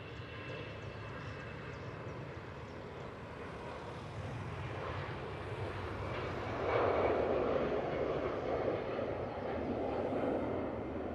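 An Emirates airliner on runway 05 right at Manchester Airport gives a distant jet rumble that slowly swells louder over several seconds, heard from afar with no voices.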